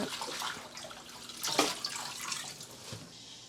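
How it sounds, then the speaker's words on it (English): Faint running water rinsing down a kitchen sink, a soft steady wash with one louder splashing surge midway, heard alone without speech. "now we just rinse the water down and then we're going to wash it"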